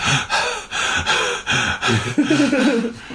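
A voice imitates studio-recorded film panting, giving rhythmic, close, loud gasping breaths in about six quick bursts with no words.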